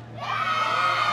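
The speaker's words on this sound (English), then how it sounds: "So give us a big cheer if you thought it was Dom's." Studio audience bursting into a loud, brief cheer of shouts and whoops, swelling quickly and holding for about a second.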